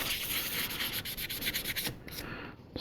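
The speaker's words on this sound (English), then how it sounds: "I'm just gonna give these a real quick, very light sanding, more like of a buffing" Quick, light hand sanding over a primed surface, a soft rhythmic rubbing of abrasive in short strokes for about two seconds before it stops, close and faint.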